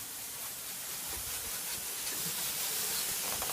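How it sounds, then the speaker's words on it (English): Steady broadband hiss of water spraying from a hose nozzle onto a wooden deck to wet it down before cleaning, continuous and fairly close with no talk. "You want to wet down your deck first"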